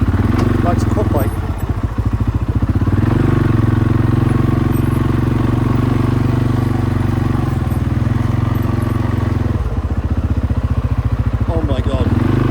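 A quad bike engine runs steadily close by, a loud continuous low drone with slight dips in pitch and level, and a voice speaks faintly over it.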